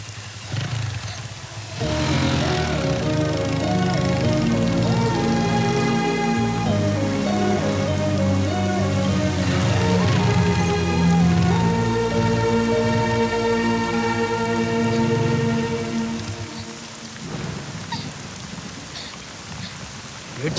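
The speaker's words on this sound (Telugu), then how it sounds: "వర్షం పడుతుంది" Heavy rain pours steadily in a Telugu film scene, a broad hiss held under a loud, melodic music score for about twenty seconds.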